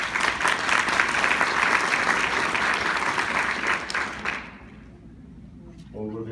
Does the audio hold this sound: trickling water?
no